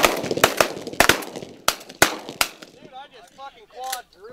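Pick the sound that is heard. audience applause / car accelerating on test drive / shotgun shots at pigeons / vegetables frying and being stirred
shotgun shots at pigeons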